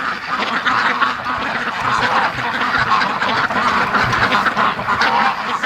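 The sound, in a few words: Muscovy ducks quacking as they go into the pen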